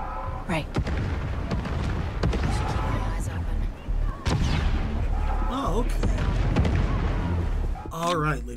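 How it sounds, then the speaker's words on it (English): Artillery cannon in the Star Wars Outlaws video game pounds a mansion with repeated heavy booming blasts at irregular intervals, loud and continuous, with rumbling and crackling between hits and voices talking over it. "they seem to have what looks like to be an artillery cannon just firing at the mansion"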